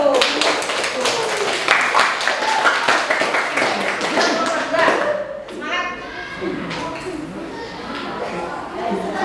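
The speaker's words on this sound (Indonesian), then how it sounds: "tepuk tangan untuk nomor 1" A classroom full of people claps in quick, uneven applause for a group presentation, with children's voices chattering over it before it thins out.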